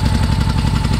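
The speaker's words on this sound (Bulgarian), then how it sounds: "Мотора вече достигна работна температура." A warm 1986 Honda Shadow motorcycle engine idles steadily at close range, a loud, even low throb with a faint whine running through it, no voices over it.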